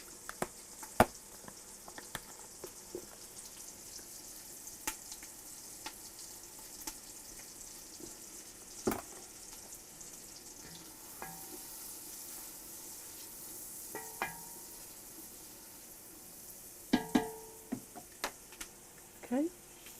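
Onion sautéing with a pinch of salt in a pan for diabetic-friendly Southern collards, giving a soft steady sizzle with scattered light clicks and stirring taps, fairly quiet and close.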